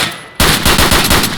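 Close, loud automatic gunfire from Escape From Tarkov: a rapid burst of about a dozen sharp shots fired in quick rhythm after a brief quiet moment.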